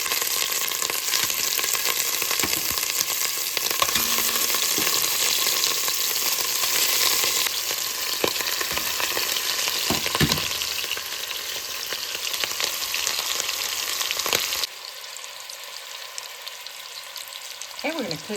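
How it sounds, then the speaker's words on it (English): Italian meatballs brown over low heat in a pan, giving a loud, steady, close sizzle with occasional stirring scrapes, then a quieter stretch at the end. "we're going to cook these on low. Our goal is to brown those meatballs"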